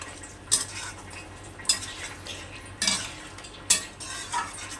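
Fried pointed gourd is stirred into a yogurt gravy in a pan. Four sharp, evenly spaced spatula scrapes rise over a soft, steady sizzle, close by, with no voices.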